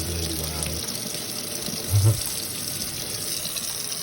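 Water gushing from a faucet onto a prototype micro hydro turbine, a steady rushing flow with a short low thump midway.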